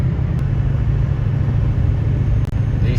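Inside a Ford F350 pickup cruising at 58 mph, a steady, loud low engine drone and road rumble hold evenly throughout, with a faint brief hiss near the end.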